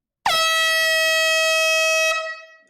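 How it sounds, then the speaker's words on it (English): One loud, sustained air horn blast, a bright brassy tone held steady for about two seconds before cutting off, alone and close. "Air horn."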